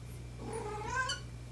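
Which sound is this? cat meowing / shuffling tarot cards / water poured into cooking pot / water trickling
cat meowing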